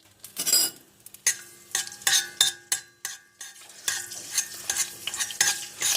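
Tomato paste hits hot oil in a pan for a sauced pasta and is stirred, giving repeated scraping clatters of a utensil against the pan over a steady close sizzle, with no talking.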